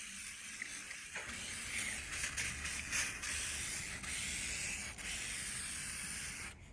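WD-40 sprayed onto a hot, steaming 383 stroker engine block during short block assembly, a steady broadband hissing spray running nearly seven seconds with brief dips, close and loud with no talk.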